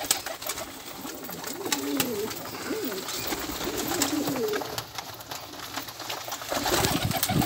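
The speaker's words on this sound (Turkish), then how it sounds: "Burada 200'ün üzerinde kuş var abi." Several pigeons coo softly in repeated throaty phrases, close by, in a loft holding over 200 birds, over a faint rustling background in an enclosed space.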